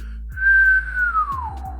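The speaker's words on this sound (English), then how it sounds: "it will turn into an O type of whistle tone" A lower, rounded O-shaped mouth whistle holds one clear tone for about a second, then slides downward in pitch, heard up close and alone, with a faint low hum beneath it.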